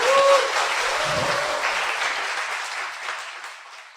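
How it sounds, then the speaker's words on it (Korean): A studio audience applauds during a Korean talk show, the full round of clapping starting loud and gradually fading out, with a short voice at the start. "박수 부탁드립니다."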